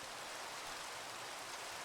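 Steady rain pours down in a Minecraft world, a continuous even hiss of falling water with no other sounds.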